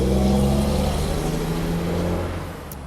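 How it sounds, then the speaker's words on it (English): Car traffic on a main road: a vehicle engine roars close by in a steady, loud rush that fades as it passes, with no one talking. "Sorry about the noise, you know I live on a main road."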